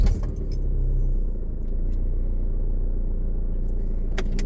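A diesel car engine starting up and then idling, a steady low rumble that stays even and fairly loud from inside the cabin, with a few light clicks near the start and the end.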